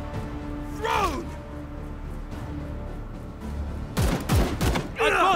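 Gunfire erupts in Chaos Gate: Daemonhunters, with a short voiced outburst early on, then a cluster of sharp, loud shots and bursts in quick succession near the end, followed by more voice.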